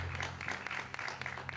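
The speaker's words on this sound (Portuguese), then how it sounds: "Se você pode, aplauda o Senhor." A church congregation claps, the sound faint and distant, a brief patter of scattered hand claps with a low murmur beneath.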